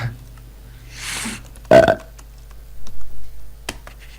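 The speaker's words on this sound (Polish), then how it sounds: "beknij się" A single loud, close burp erupts midway over a steady low hum, followed by a few softer throaty sounds and small clicks.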